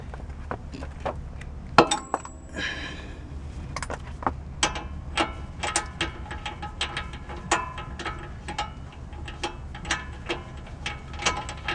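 A wrench working on the rear wheel hub of a 1997 Infiniti i30, giving a sharp metallic clank followed by a long run of quick ratcheting clicks, close and steady with no voices.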